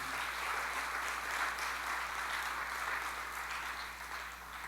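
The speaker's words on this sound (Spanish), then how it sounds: "Dele fuerte palmas al Señor, hermano" A church congregation claps in praise, a continuous spread of many hands heard from a distance, soft and even over a steady low hum, tapering slightly at the end.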